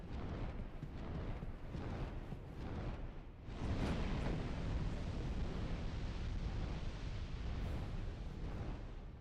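A Dark Souls fireball spell erupts into a broad, roaring explosion. The blast swells into a sustained, dense rumble that stays loud and heavy for several seconds.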